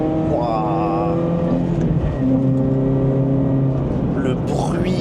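A car's engine drones steadily along the Hakone Turnpike near Mount Fuji, rising and falling with the corners while someone talks over it throughout.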